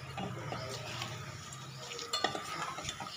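Curry leaves crackle in a hot oil tempering with dried chillies, shallots and asafoetida, close and steady, with metal spoon stirring and a pour of dal into the pan near the end.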